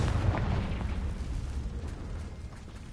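Confringo fire spell blast in Hogwarts Legacy, a deep booming explosion at the start that rolls off into a fading low rumble over a few seconds, with no talking.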